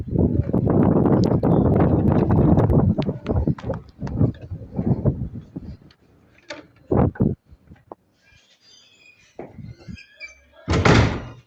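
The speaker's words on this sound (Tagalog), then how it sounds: "Sarado natin ang pinto, guys." Rustling and shuffling movement, then a few knocks and a loud solid thump near the end as a door is pushed shut nearby.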